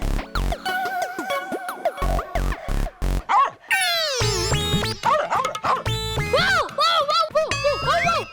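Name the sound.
person imitating a dog barking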